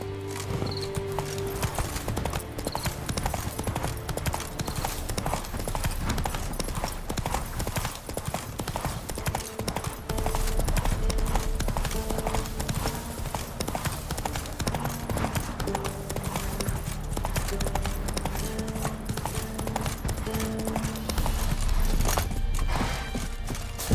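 Roach, the horse in The Witcher 3, trots with a steady, rhythmic clip-clop of hooves across the ground throughout, with faint ambient game sound beneath and occasional brief voice.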